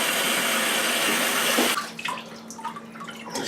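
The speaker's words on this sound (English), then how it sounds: "So I should start by rinsing this one off" Tap water runs full force over a cured pork leg in a sink, a loud steady rush that cuts off abruptly, leaving drips and small wet handling sounds.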